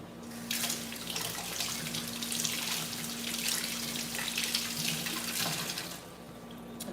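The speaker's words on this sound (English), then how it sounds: "All right, so I'm gonna wash my peaches." Kitchen tap water pours steadily into a sink while peaches are rinsed under it, a close continuous splashing rush that cuts briefly near the end.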